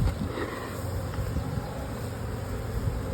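Honeybees buzzing in an open hive super during a single brood chamber inspection, a steady close drone with low handling noise underneath and no talking.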